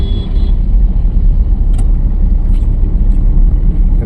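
Steady car engine held under throttle on a learner's driving lesson, a constant close rumble with road noise and no pauses, brief faint ticks over the drone.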